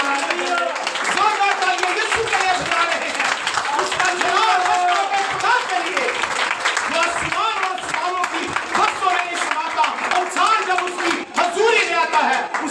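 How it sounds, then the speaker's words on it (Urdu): A congregation claps loudly in a church during a thanksgiving service, a dense, continuous roar of many hands with voices and cheering mixed throughout. "اس کے جلال کے لیے زوردار تالی بجائیں۔"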